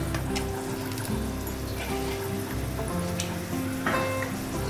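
Panch phoron spices and dried red chillies crackle and sizzle in a small amount of hot oil, a steady close frying hiss with scattered pops and brief clinks.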